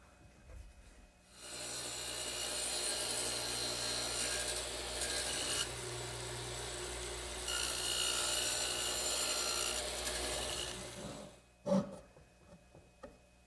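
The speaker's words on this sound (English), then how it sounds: "And I'll cut the thickness using my radial arm saw and the dado head cutter." A radial arm saw with a dado head cutter cutting tenon thickness in wood, a loud rough grinding roar in two long passes broken by a brief dip, then it stops and a sharp knock follows near the end.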